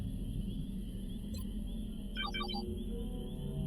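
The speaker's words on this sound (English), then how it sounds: "That's the sound drones make." Alien drone in the video game XCOM Long War, a short burst of rapid warbling electronic chirps over a steady hum of game background noise, with no talking.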